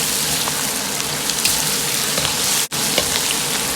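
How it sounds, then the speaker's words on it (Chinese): Duck being stir-fried with scallion, ginger and garlic in a wok on a home stove, a loud, dense frying hiss with scattered crackles, close up, broken once by a split-second drop. "接着下入葱姜蒜，炒出香味"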